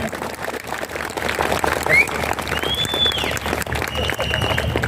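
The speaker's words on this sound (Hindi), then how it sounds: "और गब्बर अन्ना संतोष जी शेट्टी, जोर से ताली।" A crowd at a political campaign rally claps loudly and continuously, with voices and shouts running through the dense applause.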